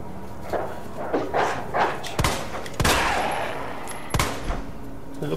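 Sharp gunshots from Resident Evil 2 Remake ring out as several loud, separate cracks spaced a second or so apart, with softer footsteps and game ambience between them and no talking.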